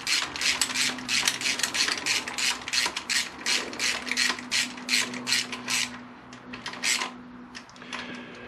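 A ratchet wrench clicks in quick repeated bursts while bolts are snugged up on a Honda VFR800 engine during reassembly, the close, crisp ratcheting pausing briefly between strokes.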